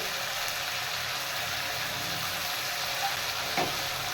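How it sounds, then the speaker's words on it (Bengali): Vegetables sautéing with onion, salt and turmeric in a pan for a rohu fish dish, giving a steady, soft sizzle throughout, with faint stirring scrapes near the end. "এবার সবজিগুলো ভালো করে সাঁতলে নেবো"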